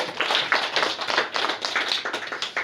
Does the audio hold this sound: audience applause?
yes